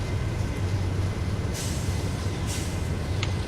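GE diesel locomotive units of about 6,000 horsepower strain uphill in a CSX train-driving video game, giving a steady low engine drone with brief bursts of hiss over the top.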